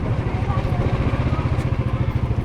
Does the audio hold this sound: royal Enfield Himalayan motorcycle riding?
yes